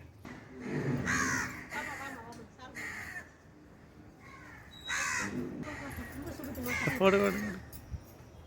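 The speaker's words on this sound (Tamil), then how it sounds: "காக்கா ரெடியாக வெயிட் பண்ணுது" Crows caw repeatedly in several bursts of harsh calls, fairly close and moderately loud, with quieter gaps between them and no clear talking.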